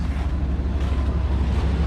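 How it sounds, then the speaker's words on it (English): A big Chevrolet Suburban engine idles steadily with a deep, even low rumble, close and continuous, with no talking. "So you can see it idles nice"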